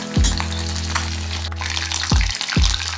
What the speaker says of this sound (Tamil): சிக்கனை ஒவ்வொரு பீஸஸாக போட்டு ஃப்ரை பண்ணி எடுத்துக்கலாம்